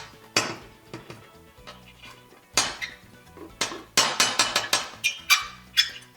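A sharp knife slices food directly on a porcelain ceramic tabletop, with irregular clinks and taps at first, then a quick run of crisp ringing knocks against the hard surface, close and clear with no talking.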